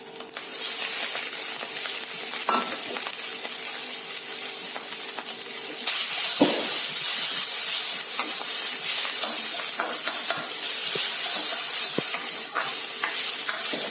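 Boiled noodles being stir-fried in a wok for street-style egg hakka noodles: steady loud sizzling with scraping stir strokes, the frying swelling louder partway through after a sharp clatter.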